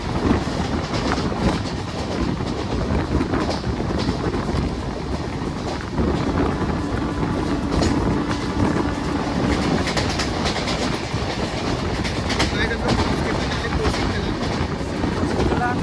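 The Kota Janshatabdi Express (12060) rumbles along the tracks at around 75–80 km/h near Kosi Kalan, with continuous loud rolling noise, rattling carriages and wind buffeting, heard from on board.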